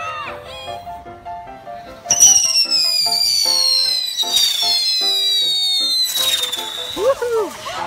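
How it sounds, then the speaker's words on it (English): Fireworks lit outdoors shriek with long descending whistles and sharp crackling pops, loud and close, with a short shout toward the end. "we just got done lighting off all the fireworks"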